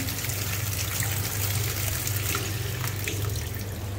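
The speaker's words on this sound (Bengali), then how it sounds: "ঠান্ডা পানি দিয়ে দিই।" Cold water runs from a kitchen tap in a steady, close stream that holds even for the whole stretch, with no talking over it.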